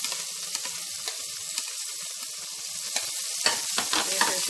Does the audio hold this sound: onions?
yes